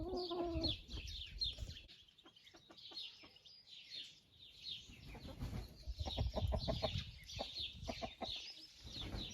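Old laying hens kept at a country dacha cluck and murmur softly in repeated short bursts, a quiet, fairly distant flock chatter with scattered rustling and footsteps.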